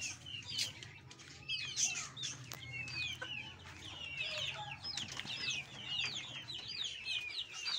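Chickens cluck and call in a busy, steady chorus, with sharp chirps and tweets layered over a low hum, close and fairly loud throughout.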